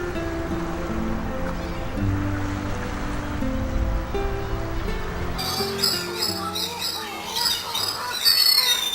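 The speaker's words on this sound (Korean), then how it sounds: "번식기를 맞은 슴새들이 섬으로 돌아와 시끄럽게 짖어댄다" Streaked shearwaters return to their breeding island of Sasudo at dusk, calling noisily with repeated squawking cries, at first over a music-like hum and then as a busy chorus of overlapping calls.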